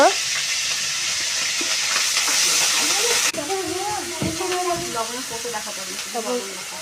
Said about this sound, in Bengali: তেলটা গরম করলো, তারপর তেলে মশলা দিল